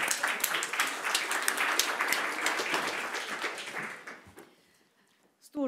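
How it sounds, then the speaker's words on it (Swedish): An audience at a panel debate on education and research policy applauds, a dense round of clapping that carries on for about four seconds, then fades into quiet, ending with a brief thump. "En applåd till dem!"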